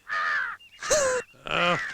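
Three loud, harsh crow caws in quick succession, close by, with brief pauses between them and no other sounds.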